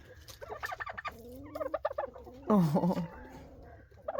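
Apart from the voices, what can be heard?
turkeys gobbling at a farm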